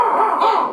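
Harsh, raspy cawing from crows fills the moment, loud and continuous as if several birds are calling close by.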